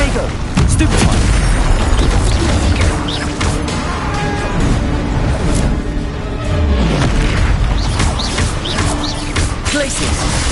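Spell blasts from Hogwarts Legacy combat, including Bombarda and Confringo casts, a loud, busy run of booming explosions and crashing impacts that overlap continuously over the whole stretch.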